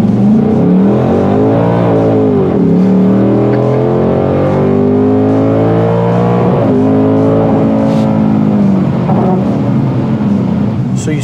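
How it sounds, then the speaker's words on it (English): A modified 2024 Ford Mustang Dark Horse accelerates hard on a wet road, its loud engine climbing in pitch, dropping at a shift and climbing again as the wheels spin and power cuts, continuous and close. "It just spun second gear and pulled the power out"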